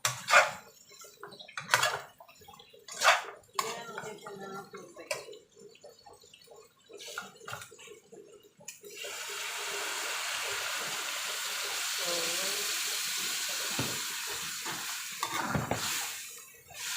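Hot water pours into a cooking pot holding duck meat and pork intestines, bringing on a steady hissing, bubbling rush after a run of scattered clinks and stirring sounds.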